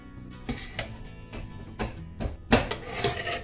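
Metal clanks and scrapes as an old pressure cooker lid is fitted and twisted shut over beef bone soup, several knocks building to a louder clack near the end.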